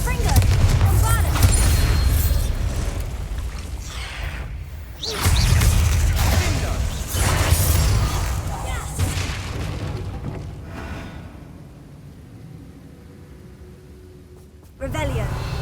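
Explosion spells Confringo and Bombarda cast in the Hogwarts video game: loud booming blasts with whooshes, several in succession, heavy and sustained, then a quieter stretch before another burst, with a player's voice speaking over them.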